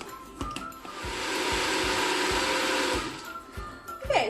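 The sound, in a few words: blender blending hummus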